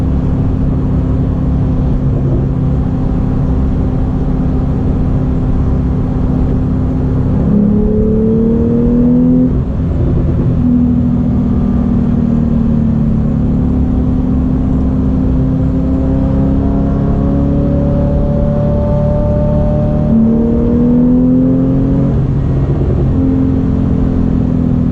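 A Porsche 911 turbo engine revs hard while driving, its droning pitch climbing and dropping steadily through a continuous, loud interior run with no talking.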